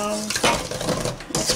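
Keto bread batter is worked in a bowl for a winter loaf, with short scraping and clinking utensil strokes against the bowl, close and fairly loud, over roughly a second and a half.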